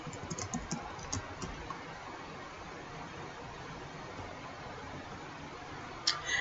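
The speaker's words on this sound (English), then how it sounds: "you'll notice as you type in the address" An address is typed on a computer keyboard in a series of quick, quiet clicks, with the keystrokes bunched at the start and again near the end over a faint background hiss.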